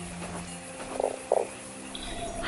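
A frog croaks in the video game Fran Bow, two short throaty croaks about a third of a second apart, mid-loud over a soft humming game background, with no talk.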